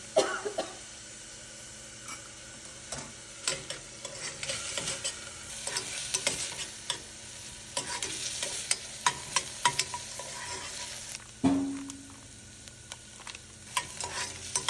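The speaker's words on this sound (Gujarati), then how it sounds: "થોડી ઓનિયન સાતળવાની" Onions sautéing in a pan for Kutchi dabeli, a soft sizzle under repeated scrapes and stirring clinks, with a cough partway through.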